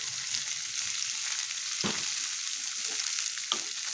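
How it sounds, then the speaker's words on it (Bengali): Cauliflower frying in a little mustard oil in a wok (kadai) gives a steady, close sizzle, broken by a few brief stirring scrapes, with no talking. "এক থেকে দু মিনিট মধ্যে একটু হালকা করে ফুলকপিটা আগে ভেজে নেবো"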